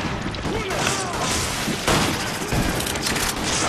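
Gunfire from a magnum in the video game Resident Evil, dense booming shots and crashes filling a busy loud game soundtrack, with overlapping effects throughout.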